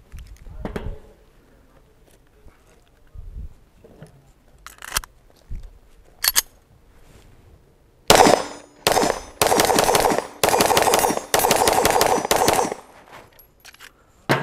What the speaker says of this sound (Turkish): İstediğiniz bir atış yapacağım.